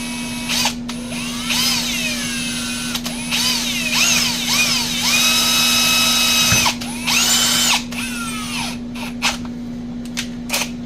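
A small drill fitted with 1/16 and 1/8 inch bits bores a hole while making a new park assist part for a 1957 Farmall 450 Diesel tractor, whining in several close bursts over a steady electrical hum.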